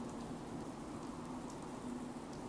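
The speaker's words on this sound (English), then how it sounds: "They're standing out in the rain." Steady rain falling in the Fallout video game, a soft, even hiss of drops continuing quietly throughout with no voices.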